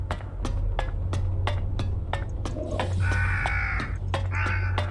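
In the video game Elex, a crow caws repeatedly in sharp, regularly spaced calls over a steady low ambient hum, with a couple of longer harsh drawn-out caws toward the end.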